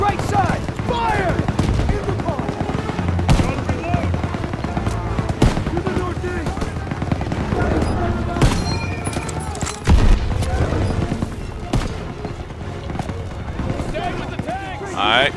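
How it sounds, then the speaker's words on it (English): Tank cannon fire and MG-42 machine-gun bursts from the World War II shooter Call of Duty WW2 rattle and boom densely throughout, with heavy blasts and rapid volleys mixed under battlefield voices. "Gunner, target that MG-42 nest, right side, fire!"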